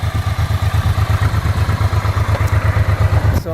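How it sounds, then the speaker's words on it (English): A 1989 Honda NT650 Hawk GT, brought back after 20 years in storage, idles steadily with its choke off, a loud, close, evenly pulsing low thrum with a faint clatter. "So you can see it's idling happy."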